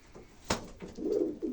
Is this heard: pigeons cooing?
yes